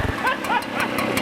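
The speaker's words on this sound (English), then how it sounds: "Fashioned from a leaf blower." A small engine from a leaf blower, converted into a snowball machine gun, runs at a steady idle with a buzzy, rhythmic chug and repeated sharp bursts, close by.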